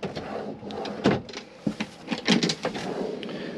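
Drawer in a motorhome kitchen being opened and handled, a series of short sliding knocks and clatters, close and fairly quiet, with no talk.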